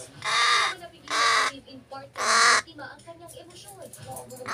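A hungry pet crow gives three loud, close, drawn-out caws, evenly spaced, followed by softer scratchy chatter and small rustling sounds.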